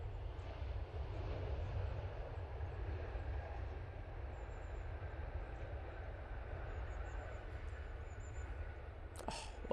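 A distant, steady low jet roar from an Air France A220 airliner at Manchester Airport rumbles continuously and faintly, ending with a brief sharp knock.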